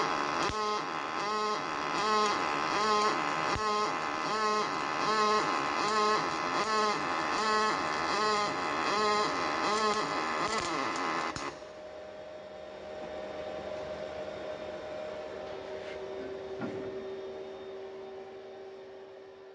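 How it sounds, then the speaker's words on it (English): A Fronius TransSteel Pulse welder running SYNCHRO Pulse MIG welds mild steel vertical up, giving a loud, close buzz with a fast, regular pulsing beat that stops abruptly partway through, leaving a quieter hum. "Let's see how Paul welds vertical up using SYNCHRO Pulse on mild steel."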